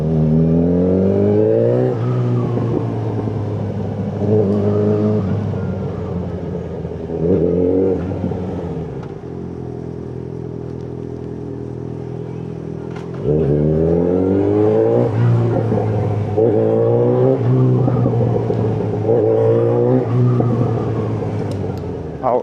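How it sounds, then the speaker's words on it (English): A Yamaha XJ6N motorcycle engine revs repeatedly while riding through Coventry, rising and falling in close, loud throttle bursts, with a rider talking over it. "this bike's naughty. Big boy Yamaha XJ6"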